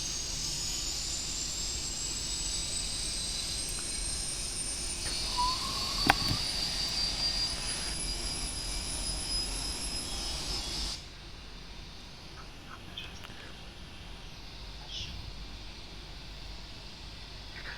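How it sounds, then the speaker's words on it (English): Engines 1 and 2 of a Boeing 747-8F spool up in a PMDG flight simulator: a steady high whine climbs slowly in pitch over a broad hiss for about eleven seconds, then drops away to a quieter rumble. "Okay, engines 3 and 4 running. We go with engines 1 and 2."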